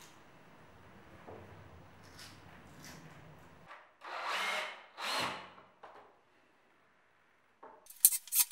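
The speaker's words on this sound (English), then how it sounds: "Then I drill the holes in the wall, insert a dowel and screw the beams to the wall." A power drill bores holes into a wall for dowels to hold beams, with soft handling noises first, then two short, bright, grinding bursts of drilling, followed by quiet and a few sharp clicks.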